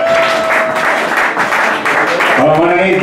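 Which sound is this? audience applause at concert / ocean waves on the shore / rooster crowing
audience applause at concert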